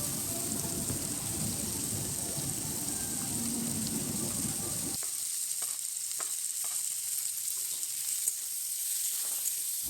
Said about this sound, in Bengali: তারপর পরিমাণ মতো লবণ দিয়ে আমি নাড়াচাড়া করে নেব।